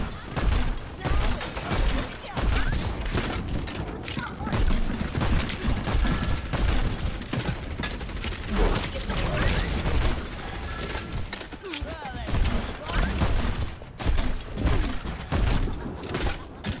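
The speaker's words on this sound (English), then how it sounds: "Ah, my favorite pastime. Shooting the shield." Dense, continuous gunfire and impact clatter as players shoot a shield in the Overwatch video game, loud and chaotic throughout with game effects layered in and some talk underneath.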